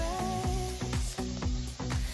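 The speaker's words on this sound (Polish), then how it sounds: "Tutaj na patelni się smaży jedna duża cebula." One large onion fries in a pan while cooking lasagna-style noodles with minced meat and sauerkraut. It gives a soft, steady sizzle, broken by a quick series of regular scraping or stirring strokes.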